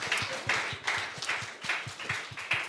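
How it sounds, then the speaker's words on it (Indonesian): A small audience at a talk event claps for the participants in a steady rhythmic pattern, with evenly spaced bursts of claps repeating at a moderate pace and a quiet wash of applause between them. "Ya kasih tepuk tangan lu"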